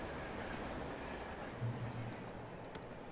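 A train rumbles past in the horror game Alan Wake, a steady broadband roar of rolling cars with a brief low tonal hum partway through and a faint click near the end.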